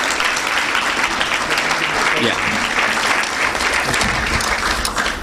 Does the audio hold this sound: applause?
yes